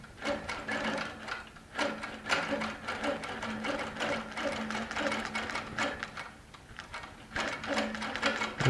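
A Baby Lock Regent sewing machine stitches in quick rhythmic bursts, starting and stopping as the quilting line is traveled back and forth, steady and close, with a person's voice now and then under the whirring.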